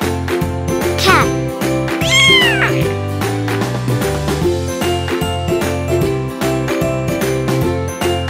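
A cat meows twice over a tinkling, upbeat children's song, with the rising meows standing out clearly against the music.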